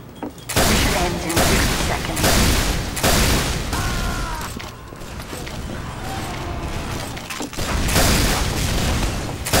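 Dense bursts of gunfire and booming blasts in a Team Fortress 2 match, loud and continuous with mechanical clanks, and a player talking over the action.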